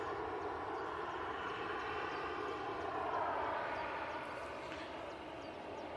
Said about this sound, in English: next departure is going to be the EasyJet A320 to Krakow